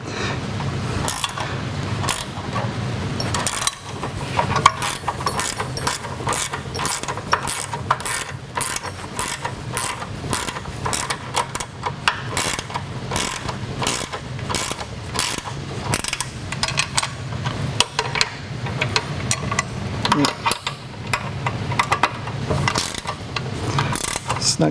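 Wrench ratcheting while bolts are tightened during assembly of an Earthquake walk-behind lawn edger, giving a long run of steady rapid clicks up close.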